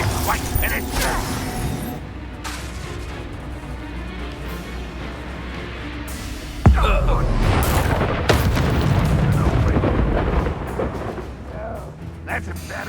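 The Bombarda spell in Hogwarts Legacy goes off with a deep booming explosion amid a duel's rumbling effects and chatter, a sudden loud blast standing out from the ongoing game sounds.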